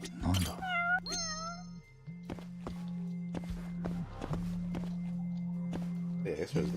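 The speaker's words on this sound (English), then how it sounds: "I guess there's my cat too." A house cat meows several times up close, its cries rising and falling, while footsteps and handling thumps sound nearby over a low steady hum.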